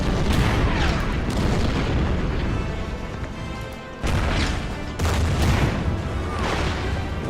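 Artillery fire in the war strategy game Order of Battle, set on the Burma Road near Imphal in 1944: a dense run of heavy booms and blasts, loud and continuous, with fresh salvos hitting around the fourth and fifth seconds.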